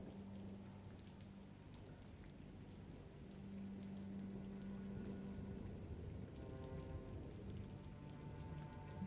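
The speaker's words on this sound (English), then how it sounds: "It continues to rain and you are wet." Steady rain falls on a surface throughout, a continuous even patter with no talk, forming background ambience for a livestreamed tabletop roleplaying game session.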